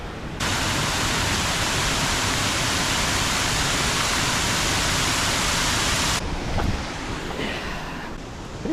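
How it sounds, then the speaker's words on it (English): A waterfall on the Georges River near Sydney pours in a dense, steady rushing roar up close. It cuts off abruptly near the end, leaving quieter water and ambient sound. "Must be one of the only waterfall sections along the Georgia River."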